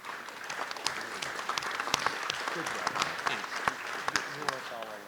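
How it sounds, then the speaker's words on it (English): Applause for Matt at a federation membership meeting fills the room, with many hands clapping in a steady patter and voices calling out over it. "You can applaud for Matt."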